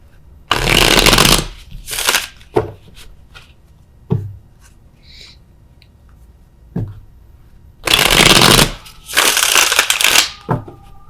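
Tarot clarifier cards are shuffled up close in two loud riffling bursts separated by quiet gaps with faint taps and card handling, and no talking.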